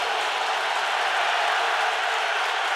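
A stadium crowd at an NFL game between the Vikings and Eagles cheers in a dense, continuous roar, loud and steady throughout with no distinct voices.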